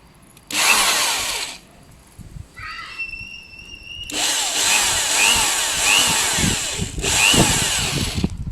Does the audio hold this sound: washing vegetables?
no